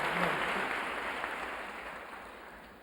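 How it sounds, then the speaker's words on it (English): Audience applause at the close of a public lecture in Washington, a broad dense clapping that starts loud and gradually fades over a few seconds, with no voices over it. "I don't know why you clap."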